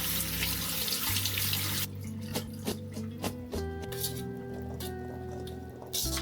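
A kitchen tap runs water over salad ingredients being rinsed, with splashing and spattering that changes as the items are moved under the stream. Water drips and squelches through it, close by and moderately quiet.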